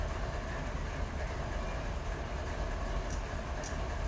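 Locomotives roll slowly in the Run8 Train Simulator game, a low steady rumble of rail noise with faint metallic clicks, fairly quiet and without talk.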